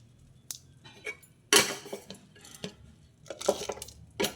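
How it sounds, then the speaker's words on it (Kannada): Spoonfuls of mushroom gravy mixture go into a mixie jar with sharp metal-on-steel clinks and scrapes, several irregular knocks close up, no talk. "ಸ್ವಲ್ಪವಾಗಿ ಮಿಕ್ಸಿ ಜಾರ್ಗೆ ಹಾಕೋತಾ ಇದ್ದೀನಿ"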